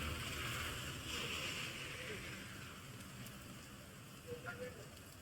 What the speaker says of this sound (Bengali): এই যে বাইরে পুরো মুষলধারে বৃষ্টি চলছে, রাস্তাঘাটে দেখাই যাচ্ছে মুষলধারে বৃষ্টি।